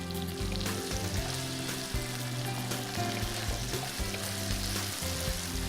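Potatoes frying in a pan with green chilies and curry leaves, a steady close sizzle with scraping stirs throughout, no talking.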